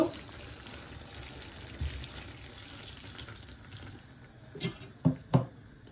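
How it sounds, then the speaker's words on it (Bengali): Water splashes and pours in short bursts into a pot of hilsa and bean curry, a few sloshing gushes toward the end over a quiet background hiss. "একটু ঝোলের জন্য পরিমাণ মতো পানি দিয়ে দিব"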